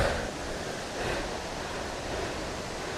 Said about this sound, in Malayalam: ഞങ്ങളങ്ങനെ വെള്ളച്ചാട്ടത്തിൻ്റെ അടുത്തെത്തി